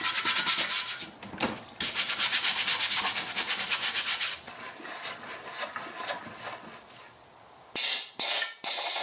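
Rapid back-and-forth scraping of old gasket material off an intake manifold, loud close rasping strokes in bursts, then quieter scraping and two short harsh scrapes at the end.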